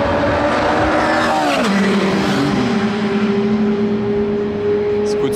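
Cars on a race track, including a Ferrari 296 and a Range Rover, roar past loudly with steady engine drone and a falling pitch as one passes close.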